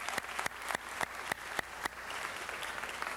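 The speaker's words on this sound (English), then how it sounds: "Let's give all of our awardees a big round of applause" A city council meeting audience applauds award winners, steady clapping of a moderate crowd underneath a series of sharp, regularly spaced loud claps or thumps close to the microphone.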